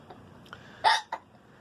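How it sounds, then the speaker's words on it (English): Loud hiccups from a person with a long, persistent bout, a few sharp separate bursts close by, one much stronger than the others, with quiet between them. "I never heard so many hiccups in a row."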